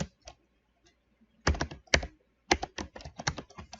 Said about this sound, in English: let's just type it in without dragging out of the value. So let's type in get